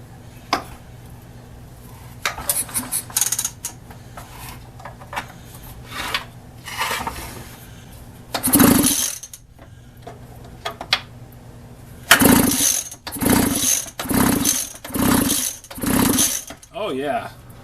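A vintage Mac Timber Bear chainsaw is pulled over by its starter cord for a spark check, making a series of loud rasping rope pulls with clicks and clatter in between and a brief rapid buzzing at the end.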